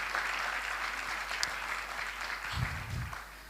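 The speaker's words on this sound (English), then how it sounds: "One more round of applause for Mr. Dowden, please." Audience applause at a Diwali festival gathering at Bhaktivedanta Manor temple, a broad steady wash of clapping from a crowd that carries on evenly throughout, with a couple of low thumps near the end.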